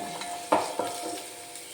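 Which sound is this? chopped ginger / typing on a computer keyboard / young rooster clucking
chopped ginger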